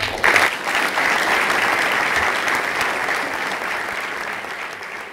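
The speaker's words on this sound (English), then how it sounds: "round of applause everyone for doing such a good job" An audience at a school debate claps in sustained, dense applause that starts strongly and tapers slightly over several seconds, with no speech on top.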